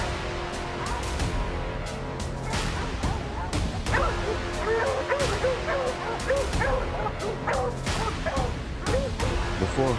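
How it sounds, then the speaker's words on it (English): Hunting dogs trained to track lions in snowy terrain bark and yip repeatedly in overlapping bursts, some whimpering mixed in, close and loud over a busy background. "These dogs are more than just companions."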